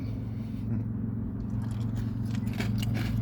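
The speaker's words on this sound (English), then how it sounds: "Just snacking a little bit" Someone snacks on a crunchy peanut butter treat, with close, continuous chewing and crunching and sharper bites near the end, over a steady low background hum.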